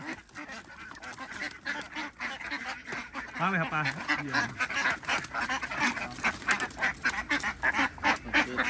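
Laying ducks quack in a busy, irregular chorus at close range, loud and continuous, with people talking among the calls.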